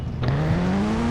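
A Ninja motorbike engine in the mobile game Indian Bike Driving 3D revs steadily upward in pitch for about a second, loud and continuous, with a brief higher blip near the start.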